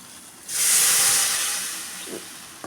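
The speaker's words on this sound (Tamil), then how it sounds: "பாருங்கள் இந்த மாதிரி கொதிக்குது பாருங்கள்" A loud, steady hiss rises suddenly and slowly fades as rasam made with horse gram boils vigorously in a pot, with a faint clink near the end.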